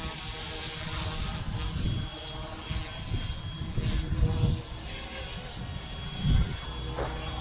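F07 UH-1D Huey RC helicopter with a brushless motor taking off outdoors on a windy afternoon, a steady whirring drone that builds and holds, with a voice speaking over it.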